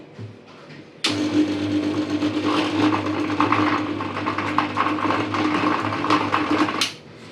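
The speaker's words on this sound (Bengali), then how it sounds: "গোটা চকলেট ব্লেন্ড করতে অসুবিধা হচ্ছে, তবু অসুবিধা হতো না যদি বড় ব্লেন্ডারটা নিতাম" An electric blender mixes whole chocolate with milk, starting abruptly with a loud steady whirring motor drone that rattles and labours for about six seconds before cutting off.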